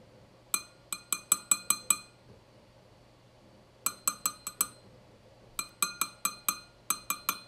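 Metal hard drive platters clink sharply against each other as they are pulled from the drive, coming in three quick bursts of five or six bright, ringing taps with a low steady hum underneath.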